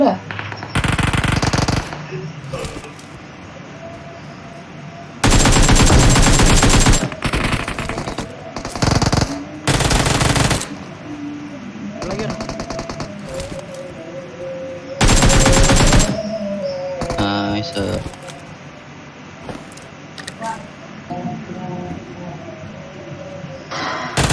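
Gunfire in the PUBG Mobile video game, with loud bursts of rapid automatic fire breaking out repeatedly between quieter stretches while players talk over it.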